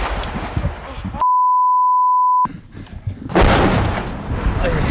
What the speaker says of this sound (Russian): Разовые выстрелы сменяет канонады артиллерии.